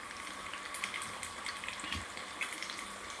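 Dried red chillies sizzle in a ladle of hot oil as a tempering for an okra and raw prawn tamarind curry, a steady quiet crackle and hiss with small pops, no voices.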